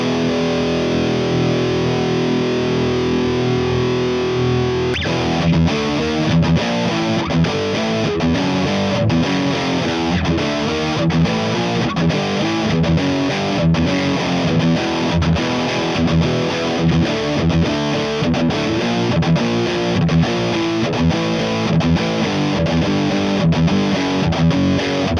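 Electric guitar through an Orange TH30 tube amp on its dirty channel in 30-watt mode, loud and close: a sustained chord rings out, then a driving chugging riff of distorted strums runs steadily to the end.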